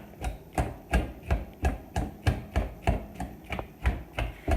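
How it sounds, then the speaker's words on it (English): Cooked potatoes being mashed with a whisk for a loaded potato cheese soup, about a dozen evenly spaced thuds and squelches in a steady rhythm, close and alone. "I'm going to mash them. I like using a whisk."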